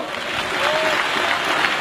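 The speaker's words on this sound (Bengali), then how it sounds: "চার আঙ্গুল দিয়ে তালি করো" Light, soft clapping from a group clapping with four fingers, a brief patter of muted hand claps that holds steady for a moment.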